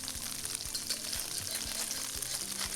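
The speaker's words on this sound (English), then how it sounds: "put in the tofu in one layer. Let it fry for 1 or 2 minutes till the bottom is brown" Tofu pieces fry in an oiled pan, giving a dense, steady sizzle and crackle close up, with faint low knocks of the pan throughout and no talking.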